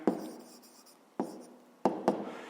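Pen strokes on paper while an answer is written down in a maths exercise, four short, quiet scratchy marks with gaps between them, close up and otherwise near-silent.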